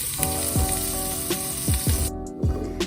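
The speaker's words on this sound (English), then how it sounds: "we're going to put in all of the asparagus and saute it until it becomes tender." Asparagus sautés in a pan with turmeric and black pepper, giving a steady close sizzle broken by several scraping stirs of a utensil against the pan.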